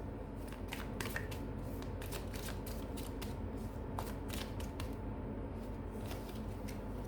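A deck of tarot cards is shuffled steadily for several seconds, producing a dense run of soft riffling flicks and snaps up close, with no voices.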